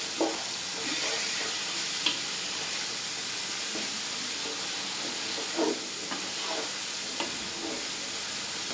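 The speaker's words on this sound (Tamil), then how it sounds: "அரை கப்பு தயிர் ஆட் பண்ணிவிட்டு நல்லா வதக்கிக்கலாம்" Biryani masala with yogurt sautéing in a pan gives a steady close sizzle and hiss throughout, with a few soft scrapes and knocks of stirring.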